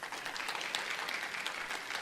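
An audience at a church conference claps to welcome a pastor, a dense even patter of many hands, steady and moderately loud for a brief moment.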